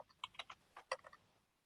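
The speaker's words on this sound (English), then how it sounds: "you can just start typing at the Python command line" Keys on a computer keyboard clatter in a quick, irregular run of light taps, faint and close, with no voice over them.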